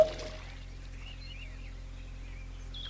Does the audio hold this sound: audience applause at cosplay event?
no